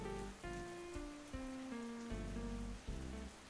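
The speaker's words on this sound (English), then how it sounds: "that rain sound has an awful loop" A looping rain sound effect hisses steadily throughout, heard quietly beneath sustained, shifting musical tones with no voices.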